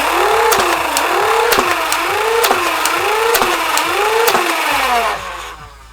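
3D-printed Nerf flywheel shotgun blaster with a rotating cylinder, its motors whirring in loud rising and falling cycles while darts fire in a steady series of sharp snaps about once a second, then the whir winds down.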